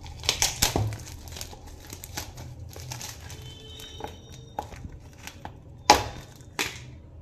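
Plastic packaging of a liquid cleaning paste for scrubbing utensils is torn and crinkled open up close, with a run of crackles and a sharp rip near the end.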